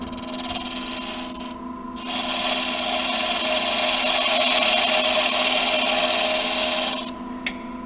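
Parting tool cutting into a spinning wooden doorstop blank on a lathe, a loud steady scraping rasp over the lathe motor hum, starting after a pause and ending as the cut stops.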